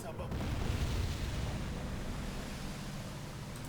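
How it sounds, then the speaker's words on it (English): Aircraft bombs explode in Silent Hunter 3, a heavy rolling roar that starts loud and slowly settles into a steady rumble like churning water, with no separate distinct blasts. "It seems like he just bombed the surface"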